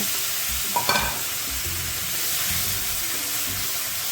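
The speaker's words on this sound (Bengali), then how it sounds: "খুন্তি দিয়ে নেড়ে চেড়ে নিয়ে বেটে রাখা শিম দিয়ে দেব" Ground flat beans go into hot oil with nigella seeds and are stirred with a spatula, a constant hissing sizzle with a few soft scrapes and knocks, steady and near.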